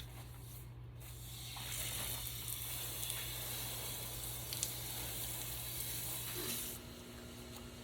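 A green Dramm shower watering head sprays a steady rain-like shower onto plants before planting petunias, a continuous soft hiss running close and even throughout, easing off near the end.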